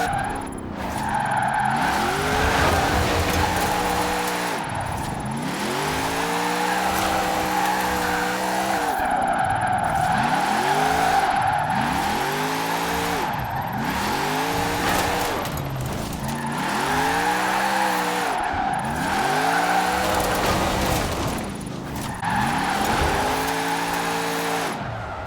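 Alfa Romeo 155 Q4 racing in Forza Horizon 4, its engine revving up and down through repeated gear shifts while tires squeal and skid almost continuously, loud and close throughout.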